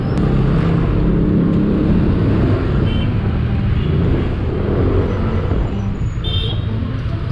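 Monday morning road traffic in Tondo, Manila, where heavy, steady vehicle rumble fills the air with passing cars and buses close by, a brief brake hiss near the end, and no one speaking.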